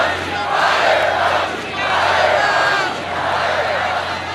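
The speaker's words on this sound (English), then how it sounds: "You can hear there is a chorus of boos and other chants from this Trump crowd here in Tampa, Florida." A large political rally crowd in Tampa, Florida, boos and chants in rolling waves, loud and close, the massed voices swelling and easing roughly every second and a half over a steady low hum.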